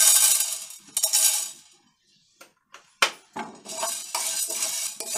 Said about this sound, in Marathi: काळी मिरी भाजून घेऊयात आपण.